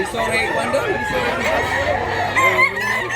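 Roosters crow amid other fowl at a chicken market in Mantalungon, Cebu, with overlapping calls over a busy crowd and people talking nearby.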